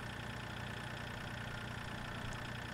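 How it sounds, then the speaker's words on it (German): A small tractor engine idles in Farming Simulator 2013, a steady, even mechanical chug with no change in pace, heard alone at moderate level. "Unser kleiner Tuf-Tuf-Trecker."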